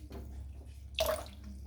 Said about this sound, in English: I'm just going to give it a bit of a shake in the water